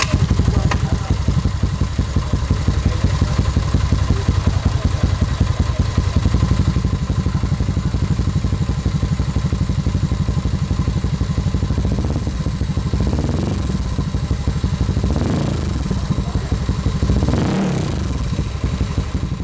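Honda Scoopy 110 scooter from 2015 fitted with an aftermarket exhaust idles steadily up close, a smooth continuous engine drone with a few brief revs near the end, with no talking.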